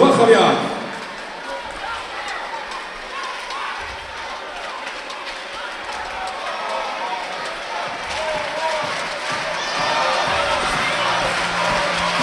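A judo Grand Prix arena crowd in Tel Aviv roars and cheers steadily in the distance, a broad sustained wash of noise with a commentator talking over it throughout.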